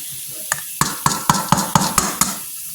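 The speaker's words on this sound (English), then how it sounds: "go ahead and crack that egg" Egg cracked into a bowl of dog food for a pitbull, with coconut oil nearby, heard as a series of about eight sharp, close taps and clicks at a steady rhythm, each followed by a short wet scrape.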